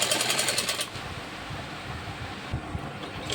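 A sewing machine stitches elastic onto a salwar, a rapid rhythmic chatter for the first second, then fading to a quieter mechanical rumble with light handling sounds.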